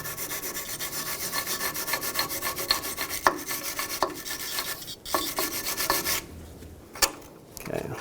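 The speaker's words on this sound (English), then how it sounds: "I'm going to start with a wire brush" Rapid, rhythmic scraping of a wire brush rasps against a rear brake rotor on a 2009-2011 Ford F-150, with brief pauses and a few sharper scrubbing strokes, close and fairly loud.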